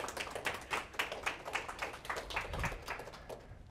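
A small audience claps at a memorial garden dedication, a thin, faint patter of separate hand claps in an uneven rhythm that fades toward the end.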